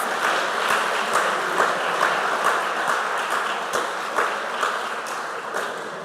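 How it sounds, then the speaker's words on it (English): An audience applauds quiz contestants at a school quarter-final: a sustained wash of clapping at moderate distance, with individual claps sounding sharply through it, slowly tapering toward the end. "Please, a round of applause again for our contestants."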